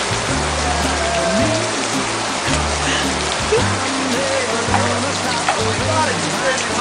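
Rain pouring outdoors near a house and car, a loud steady wash of water with a low engine-like hum underneath and people talking.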